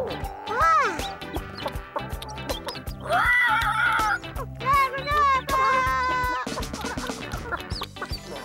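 Cartoon chickens cluck and squawk at breakfast time on a farm, a busy run of animated bird calls and cackles under a cheerful voice talking, with bright music running throughout.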